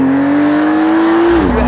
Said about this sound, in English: You have that growling sound from that 3-liter flat 6-cylinder engine.